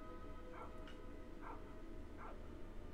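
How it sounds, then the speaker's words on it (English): A dog barks several times indoors, faint and slightly distant, each bark short and spaced about a second apart over steady background noise during Skyrim gameplay. "I do apologize about the dog barking"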